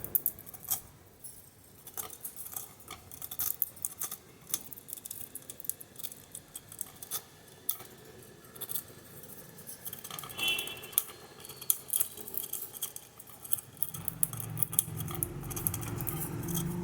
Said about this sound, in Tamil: அதோட சவுண்டு கேளுங்க, அது கடித்து சாப்பிட்ற சவுண்டு